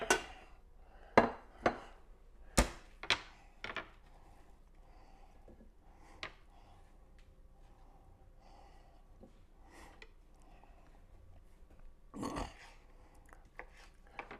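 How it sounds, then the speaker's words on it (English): A knife slices sausage at an angle on a board, giving a series of sharp, close cuts and taps, clustered early and again near the end with quiet gaps between. "So we're going to get all our sausage sliced up"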